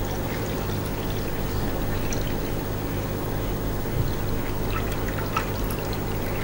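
Distilled rainwater pours steadily into a container as a continuous, even rush of liquid, close and unbroken, with no talk.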